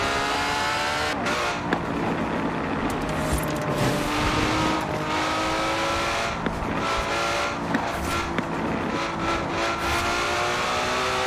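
A car engine in the Forza Horizon racing game revs steadily and accelerates at high speed, with rising and falling gear tones, a few shifts and occasional tire noise, loud and continuous throughout.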